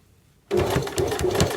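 After a moment of silence, a sewing machine starts abruptly and runs steadily while stitching a two-piece sleeve, a close rhythmic whir without pauses.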